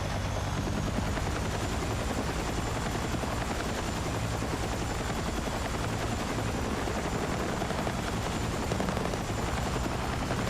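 A helicopter in a video game roars with a dense, unbroken rotor and engine drone that holds loud and close for the whole stretch, with faint gunfire mixed in and no talk.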